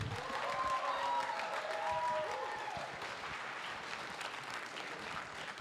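An audience at a kickoff event applauds, steady clapping throughout with voices and cheers over the first half, easing slightly toward the end.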